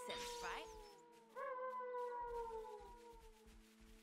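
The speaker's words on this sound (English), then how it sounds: "I hear howling." Howling in Xenoblade Chronicles 3 near the Saffronia tree: long wavering wail-like tones rise and glide over several seconds, loud and layered, with a steady pulsing hum beneath.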